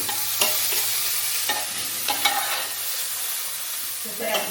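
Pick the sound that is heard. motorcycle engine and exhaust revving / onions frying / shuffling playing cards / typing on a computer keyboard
onions frying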